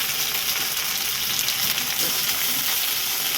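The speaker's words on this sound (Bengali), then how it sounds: "ভালো করে কিন্তু মশলাটাকে কষিয়ে নিতে হবে" Ground spice paste frying in a pan while being cooked down for an egg curry; a constant close sizzle with occasional soft stirring scrapes, no voices.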